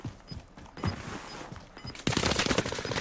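UMG submachine gun hipfired in Call of Duty Warzone, a few short bursts that build into a loud, sustained rattle of rapid gunfire toward the end.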